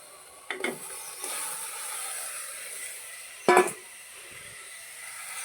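Sliced beef fries in a heated pan, giving a steady, even sizzling hiss with a few sharp clatters of utensils on the pan, and no speech.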